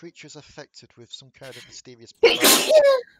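A single loud, abrupt sneeze bursts out right after a stretch of calm conversational speech, close to the microphone and lasting under a second.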